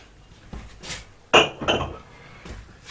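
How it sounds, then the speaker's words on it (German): Dishes and glasses clink and knock while someone unloads a dishwasher at home. A few irregular, close, sharp clatters stand out against quiet background noise. "ich räume jetzt ein bisschen Geschirrspül aus"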